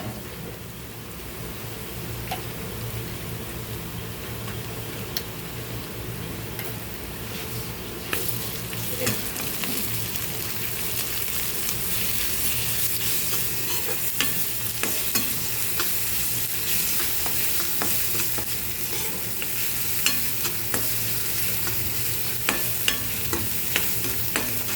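Ginger garlic paste and tomato puree frying with onions in a pan, a continuous close sizzle with a crackling, rain-like texture and occasional stirring clicks, growing brighter after the additions.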